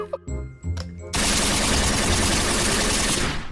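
A toy automatic pistol fires a long rapid burst of mechanical rattling gunfire, loud and continuous, after a few brief clicks and handling sounds.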